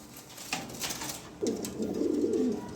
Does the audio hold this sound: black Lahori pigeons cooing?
yes